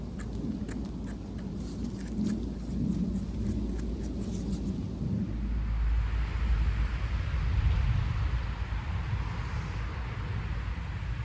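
Wind and rain storm outdoors, a steady dense wash of rain and gusting wind with low rumbling underneath, continuous and fairly loud throughout with no speech.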